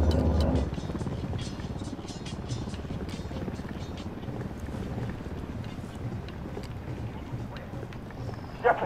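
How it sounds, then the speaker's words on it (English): Helicopter in the shooter game Ghost Recon Wildlands, a continuous rotor thrum and rushing noise held steadily throughout, with a sharp thud at the very end. "Somebody take this helicopter out."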